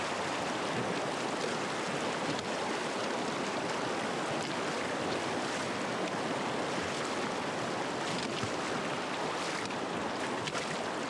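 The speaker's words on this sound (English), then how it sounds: "I gotta cross the creek" Creek water rushing steadily during a trail crossing in the mountains near Mount Avens, a loud, dense and continuous flow that fills the whole stretch with no talk over it.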